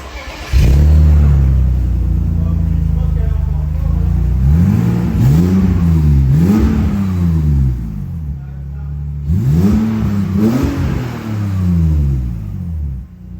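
A BMW E30 car engine starts and revs several times, rising and falling loudly and close by, with a steady idle between revs.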